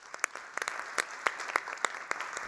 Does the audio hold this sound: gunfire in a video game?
no